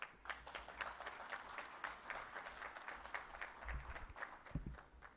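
An audience at a Ugandan tourism expo applauds with dense, steady clapping that carries on throughout, faint and distant, with a few louder thumps near the end.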